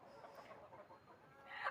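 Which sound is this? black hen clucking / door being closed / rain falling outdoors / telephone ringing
black hen clucking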